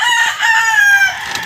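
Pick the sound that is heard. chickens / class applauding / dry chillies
chickens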